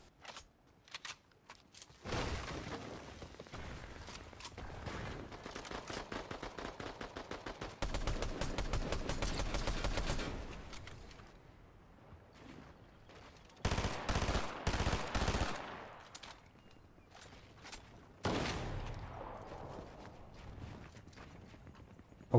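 Gunfire in the Fortnite video game: bursts of rapid shots from a slow-firing minigun, in several long volleys separated by short pauses, loud and close with no talk over it.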